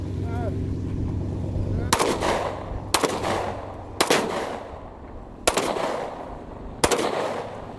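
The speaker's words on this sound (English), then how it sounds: "this is a SIG 1911, 230 grain full metal jackets" A SIG 1911 pistol fires 230-grain full metal jacket rounds, five sharp, loud shots spaced about one to one and a half seconds apart outdoors, over a low steady rumble of background noise.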